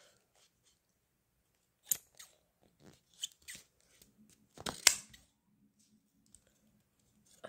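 Several crisp, separate scissor snips trimming a small piece, close and quiet, spaced irregularly with a tight cluster of cuts near the end.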